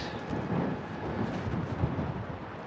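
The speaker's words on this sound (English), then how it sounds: "trying to keep it steady with the wind blowing so hard" Steady low rumbling buffeting of strong wind against a microphone on the Long Island City waterfront in Queens, New York, in February, continuous and fairly loud throughout with no voices.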